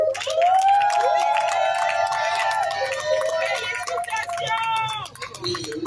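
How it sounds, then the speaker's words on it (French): Wedding guests celebrating Ruth and Hervé Osongo erupt in loud cheering, with high trilling shouts and excited crowd noise close by and clapping mixed underneath. "Je demande à l'assistance d'applaudir très très fort le couple Songo."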